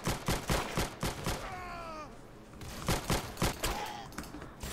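Rapid bursts of gunfire from a gun in the Roblox game Arsenal crack out in quick repeated volleys, with a brief lull in the middle before the shots resume.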